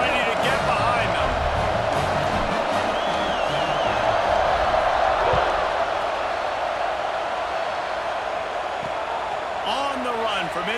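Simulated stadium crowd at kickoff of a 2035-season Florida State vs. Louisville game in EA Sports College Football 26, a loud continuous roar with rising cheers, steady throughout and filling the background.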